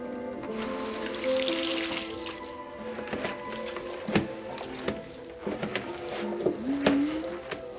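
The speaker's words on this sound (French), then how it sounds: "tu m'ouvres un petit peu plus le robinet" Water runs from a kitchen sink tap during bread making, a steady hiss with clatters and knocks of dishes and utensils in the basin and a brief squeaky tone near the end.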